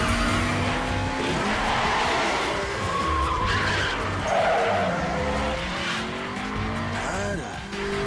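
A BMW accelerates hard and drifts sideways, its engine roaring at high revs while the tires squeal and skid continuously, loud and close, with faint voices underneath.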